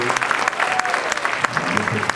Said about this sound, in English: Let's give another round of applause to the fantastic students at Boys and Girls High School.